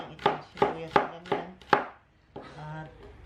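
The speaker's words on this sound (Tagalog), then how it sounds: "So, hiwain lang itong sibuyas na ganyan." A knife chops an onion on a cutting board for a Filipino fish broth dish: five crisp, evenly spaced chops, a brief pause, then one softer stroke, all close up.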